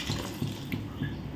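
Water poured into a pot of kara kuzhambu with turmeric, filling it to the level of the vegetables, a soft liquid splash and gurgle close by with a few gentle pulses, no talking.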